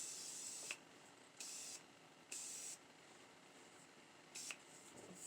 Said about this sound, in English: we're gonna spray the face just to keep everything copacetic